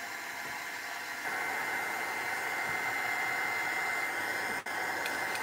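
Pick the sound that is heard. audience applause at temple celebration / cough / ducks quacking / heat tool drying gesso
heat tool drying gesso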